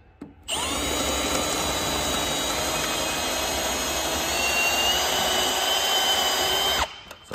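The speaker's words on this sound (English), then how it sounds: "Resume drilling." A power drill whirs loudly and continuously for several seconds at a steady high pitch while drilling out a tunnel cut, then cuts off abruptly.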